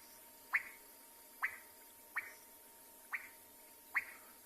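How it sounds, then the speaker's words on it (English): Frogs call at evening on a South African safari, five short sharp clicks spaced about a second apart, faint against quiet background hiss. "And that'll be frogs in contact with each other."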